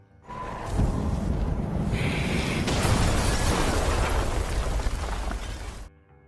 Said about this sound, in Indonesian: tabung gas itu pun meledak dan monster itu pun terbakar bersama rumah itu